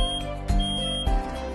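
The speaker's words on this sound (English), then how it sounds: "Smoke alarms make a loud noise when there is smoke in the air." A household smoke alarm beeps in short, loud tones over a steady electronic hum, with two sharper pulses standing out in a brief burst.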